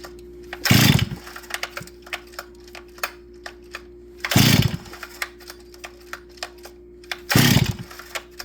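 Three separate hard rope pulls on a chainsaw with the choke on. Each gives a short rasping burst as the motor turns over without catching, with quiet pauses and a faint steady hum between pulls.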